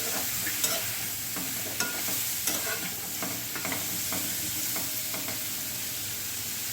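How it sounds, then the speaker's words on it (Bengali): Mushrooms frying lightly with a pinch of turmeric in a pan, a continuous close sizzle with repeated scraping strokes of a spoon stirring throughout. "সামান্য একটু হলুদ দিয়ে এটাকে একটু ভাজা করে নেব, হালকা করে ভাজবো।"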